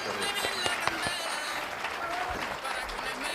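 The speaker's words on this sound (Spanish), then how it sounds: "Un fuerte aplauso para él." Steady applause from a studio audience on a television cooking show, welcoming a chef, with a few sharper claps standing out from the dense clatter.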